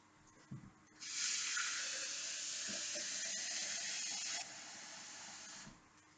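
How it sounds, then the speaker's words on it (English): Hot water pours into a cup as a steady broadband hiss for a few seconds before cutting off, close by, with faint clinks before and after. "So I've popped some hot water in my cup."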